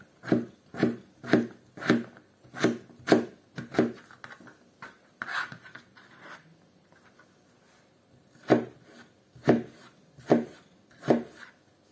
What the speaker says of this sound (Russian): Сейчас буду кубиком резать картошку.